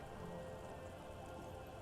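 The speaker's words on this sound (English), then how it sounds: "The droplets feel warm, like spring rain." Steady rain patters down on surfaces in the video game Disco Elysium, a soft, even wash of drops with no voices over it.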